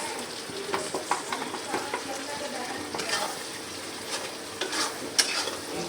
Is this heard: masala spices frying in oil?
yes